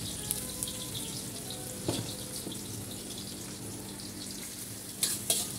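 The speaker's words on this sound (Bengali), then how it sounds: "তেল গরম হয়ে গেছে পেঁয়াজ দিয়ে দেবো" Onions fry in hot oil in a wok, giving a steady, fairly quiet sizzle throughout, broken by a few sharp clinks of stirring.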